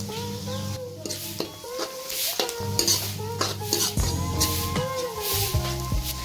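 Onions fry with green chillies and salt for Punjabi sarson da saag, a quiet sizzle under frequent scraping and clinking stirs of a metal spoon against the pan, with no speech.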